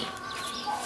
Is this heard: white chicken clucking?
yes